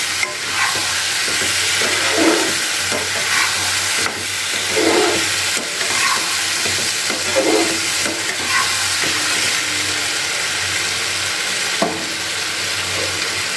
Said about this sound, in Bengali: এবার আমি ধুয়ে রাখা চিকেনটাকে এর মধ্যে দিয়ে দিলাম দিয়ে খুব ভালো করে নাড়াচাড়া করে নিচ্ছি